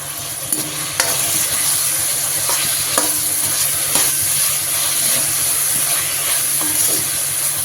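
Onions sauté in oil for noodles with a steady, loud sizzle and hiss, broken by occasional scrapes and stirring knocks of a utensil in the pan, with no voices.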